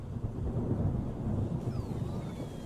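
A deep, rumbling thunderclap plays as a stream alert sound effect, a sustained low roll that stays loud and steady for its whole length, with a faint descending whistle-like tone toward the end.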